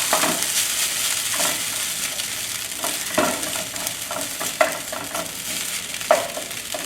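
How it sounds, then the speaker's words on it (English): Steady sizzling and frying of rice in a hot, smoking pan, with scraping stirs and occasional sharp clinks of a utensil against the metal. "now we're gonna scoop the rice to the bottom. One side of your frying pan."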